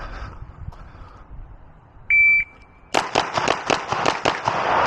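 Pistol shots crack at target practice after a short electronic beep from a shot timer, a quick string of about seven sharp reports in steady rhythm, loud and close.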